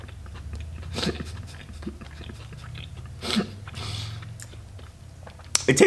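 Close-up bites and chewing of cinnamon roll pancakes drizzled with a sweet topping, with soft crunchy mastication noises in irregular bursts and a sharper bite near the end, no talking.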